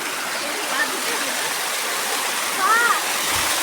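Steady rushing water from an artificial waterfall in Swapnapuri park fills the scene as a continuous, close wash of sound, with a couple of faint bird-like chirps and a brief low thump near the end.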